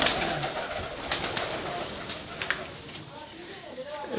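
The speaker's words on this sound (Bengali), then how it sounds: "কবুতর ঘুরে দেখা যাবে সুস্থ আছে" Free-ranging pigeons cooing in a rural loft, soft repeated low coos with scattered wing flaps and small knocks around them, while people talk nearby.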